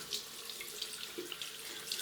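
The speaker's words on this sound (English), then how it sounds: "Then wet elbow down to hands first under running water." Tap water runs steadily into a sink during hand washing in a skills lab, a continuous hiss with small splashy fluctuations as hands move under the stream.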